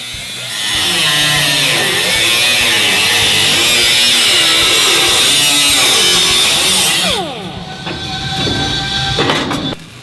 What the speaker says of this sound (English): Cut out the marked section of the seat riser.